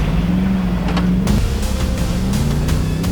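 A Nissan Patrol Y62 4WD engine holds high revs climbing a wet trail, a loud, close, sustained drone that shifts pitch as the throttle changes, with rattles and splashes.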